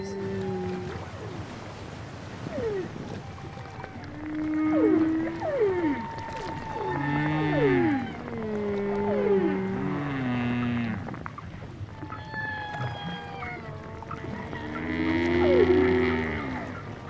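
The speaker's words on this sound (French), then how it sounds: "l'expédition procède à des enregistrements et saisit les sons mêlés des baleines et du trafic maritime alentour" Whale calls recorded underwater in Maputo Bay: a long run of rising and falling tonal moans and whoops, some overlapping, with a steady low rumble from surrounding boat traffic beneath.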